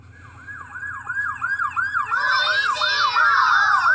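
Police vehicle siren from a police car song, wailing in a steady repeating rise-and-fall that grows louder and denser, with a second higher siren tone joining partway through.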